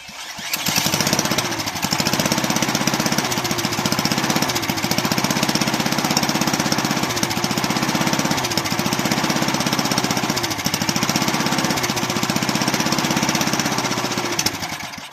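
Bolens Husky 18 push mower's two-stroke engine running continuously up close, a loud rattling, buzzy drone with a slightly uneven, surging rhythm for the whole stretch.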